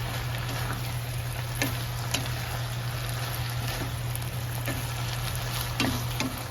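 Food sizzles and fries in a pan in a simple home kitchen, a continuous crackling hiss marked by a few soft clinks of stirring, with no talking over it.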